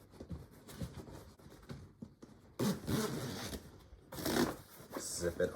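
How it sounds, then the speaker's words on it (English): A storm cover being zipped onto a Joolz Day 5 pram, with soft rustling and handling noises followed by two bursts of zipping, close and clear, as a person talks in between. "Zip it on."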